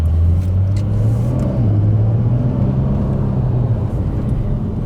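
A 2020 Porsche 992 Carrera 4S drives across a wet, water-covered skid pan, its engine holding a steady low drone with slight shifts in pitch, fairly close and continuous without talk.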